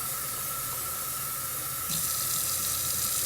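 Water runs steadily from a kitchen tap as fresh mushrooms are rinsed, a continuous close splashing hiss that grows a little louder partway through as the stream hits them.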